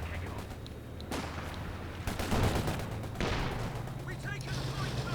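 Gunfire and explosions from a Company of Heroes 2 battle, with scattered shots and bursts over a steady rumble, louder flurries midway and near the end, and a voice talking over the combat.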